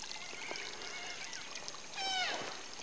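Darling River water runs over a small stony ridge at Wilga in Paroo Darling National Park with a soft, steady trickling murmur, faint and continuous, broken by a brief bird call near the end.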